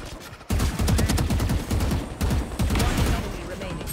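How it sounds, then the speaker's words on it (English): Rapid bursts of gunfire in a Valorant match on the Bind map, loud rattling volleys starting after a brief quiet moment and continuing in repeated strings, with players talking over it. "You see the gunfire. That's where the Sage is."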